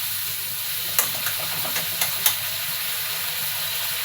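Tomato with spices sizzles and fries in a pan while being stirred, a steady close hiss with a few sharp scraping clicks of the spoon, no talking.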